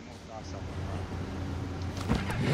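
A motorcycle engine in the video game Sleeping Dogs holds a steady low hum that rises slightly toward the end, running beneath a voice.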